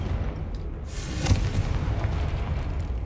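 Confringo fire spell blast in the Hogwarts Legacy video game, a deep muffled boom rising around the middle of a short rumbling stretch of game sound.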